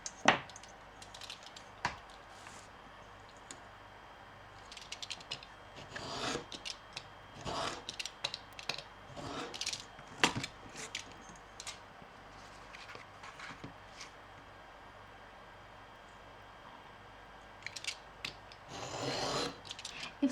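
Scissors snipping and rubbing through thin craft material for a wooden-look card background, a quiet run of irregular short cuts and scrapes with pauses between them, close up and without talk.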